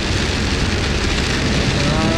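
Heavy rain drums steadily on a car driving through flooded streets in Deventer, a dense, continuous hiss of water close around the vehicle with no pauses.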